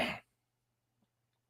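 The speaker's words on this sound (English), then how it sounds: "I coughed on that one." A single short, sharp cough or throat-clear right at the start, close and fairly loud, followed by near silence with a faint low hum.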